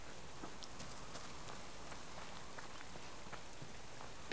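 Rain falls in the video game Subsistence as a quiet, even hiss of drops on surfaces, with scattered light patters and no talk until a brief noise at the end.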